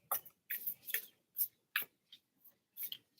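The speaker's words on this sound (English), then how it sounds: "gonna shuffle them up." Tarot cards are shuffled by hand close by, making soft, irregular flicks and papery taps in short separate bursts in a quiet room.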